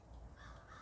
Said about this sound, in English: Well, you can hear the crows.